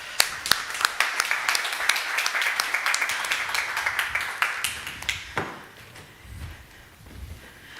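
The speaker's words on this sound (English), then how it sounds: "a warm applaud" An audience at an Almedalen Week panel on European civilian and military preparedness gives warm applause, dense and steady clapping for about five seconds before fading into quieter room noise.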